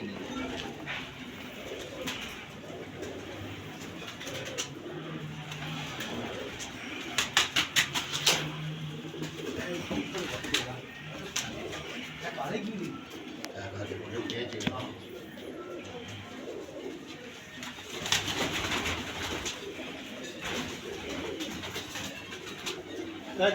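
Pigeons cooing in a loft while a newly paired male and female are handled, soft repeated low coos recurring through the scene with people talking over them and occasional wing flutters.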